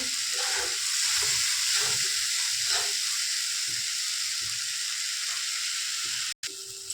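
Onion, ginger and garlic frying in a pan while fish is being cooked, a steady close sizzle and hiss with light stirring scrapes, ending in a brief cut.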